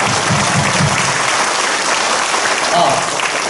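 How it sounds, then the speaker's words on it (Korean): A congregation in a Korean Methodist church breaks into loud, sustained applause, a dense roar of many hands clapping filling the room at an even level, with a faint voice briefly audible through it. "우리 주님께 영광의 박수 할렐루야"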